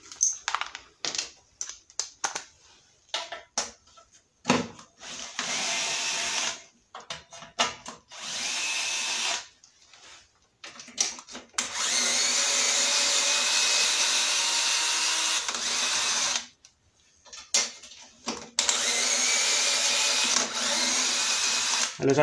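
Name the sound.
power tool loosening bolts on Toro lawn mower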